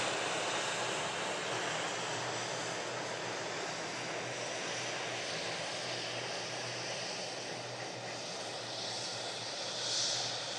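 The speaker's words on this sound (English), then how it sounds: "a stunning bizjet just touched down" A business jet rolling out after touchdown at Manchester Airport gives a steady, loud roar of jet engine noise with broadband rush, continuous and fairly close throughout.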